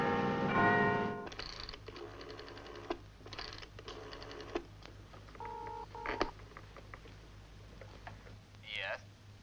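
An old telephone dialed for a long-distance call to Paris, sending a run of short mechanical clicks and a pair of steady electronic tones midway, close and fairly quiet, followed by a brief rising squeal at the end.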